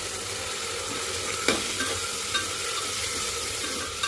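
Washed rice being stirred into matar pulao in a pan, giving a steady soft sizzle and scraping stir with a few brief clinks of a spoon, close and alone without talk.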